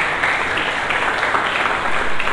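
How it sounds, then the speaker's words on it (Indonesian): A church congregation claps together for Jesus during a sermon, a steady, dense wash of applause filling the whole stretch without pause. "Berikan tepuk tangan dulu bagi Yesus."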